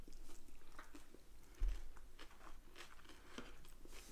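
A bite into a crunchy Cédric Grolet pastry with caramel and mousse, heard as soft, close crunching and chewing, quiet and irregular with faint crackles.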